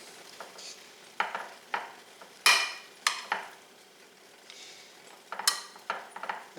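Chicken tenders fry in a pan with a soft steady sizzle, broken by several sharp scrapes and clacks of a utensil as the pieces are flipped, close and without talk.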